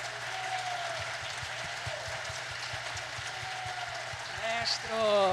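A theatre audience claps for a performer at a late-afternoon concert, a steady wash of applause with voices talking over it and a hum running underneath.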